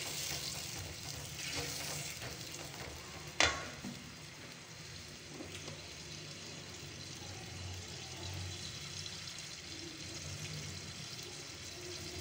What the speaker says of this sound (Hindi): और अब इसमें जाएगा 2 टीस्पून हमारा लहसुन अदरक का पेस्ट जाएगा इसमें, ये चला गया है, इसको हम फ्राई कर लेंगे अच्छी तरीके से